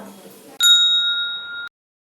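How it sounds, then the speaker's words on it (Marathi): A single bright bell ding rings out clearly after a brief bit of faint background noise, sustaining for about a second before cutting off. "ही घंटी वाजवा"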